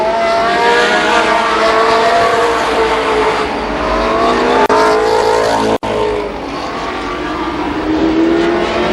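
Race cars howl around the oval at Columbus Motor Speedway during a 1993 heat race, several engines layered loud and close with rising and falling pitch as they slide through the corners.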